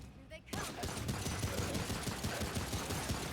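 Rapid gunfire in Remnant: From the Ashes as a magazine is emptied, a dense, loud, continuous burst of shots after a brief quiet start.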